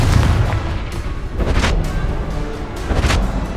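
Confringo blasting spell in the video game Hogwarts Legacy, a series of loud booming explosions and bursts in quick succession amid continuous rumbling combat noise.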